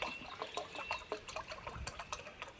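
Water trickles and splashes into a pot while wild camping, a faint, uneven stream of small gurgles and drips close by.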